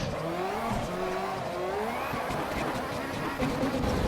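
A car drifting in the racing game Assetto Corsa EVO, with a constant loud engine drone and long rising and falling tyre squeals through slides, while someone talks over it.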